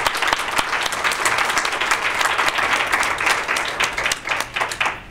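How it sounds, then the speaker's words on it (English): Audience at a women's workshop applauding the panel, a dense and steady round of close clapping with individual sharp claps standing out, lasting throughout with no talk. "Let's give these ladies a round of applause."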